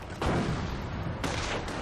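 Artillery shells land in a Company of Heroes battle, the Tales of Valor expansion at Cauquigny, with two loud broadband blasts about a second apart and a rumbling tail between them.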